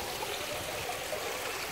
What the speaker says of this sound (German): Hier läuft im Prinzip direkt das Wasser aus dem Filter in den IBC.